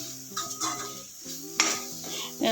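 Onions frying in an oil tempering for kabuli chana usli, stirred with a spoon against the pan: a soft sizzle under intermittent metallic scrapes and clinks at close range.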